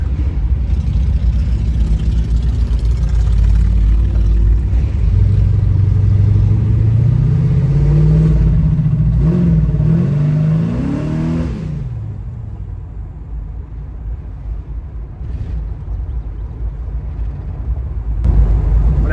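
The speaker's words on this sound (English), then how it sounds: "Nail the gas, it like almost stalls right there." A 1971 Oldsmobile Cutlass engine revs loudly as the gas is floored, climbing in a rising drone for several seconds before stumbling and dropping to a low, uneven idle that nearly stalls.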